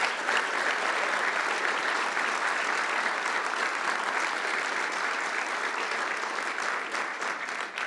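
Steady, sustained applause from an audience at a police service awards ceremony, loud and continuous throughout with no talk over it.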